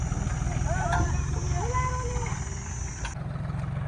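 A tractor engine runs on a farm with a steady, low, chugging throb close by. Voices talk over it.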